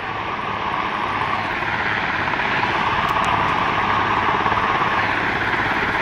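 A helicopter flies low past trees and overhead, its rotor drone and turbine whine loud, steady and near throughout, with no voices.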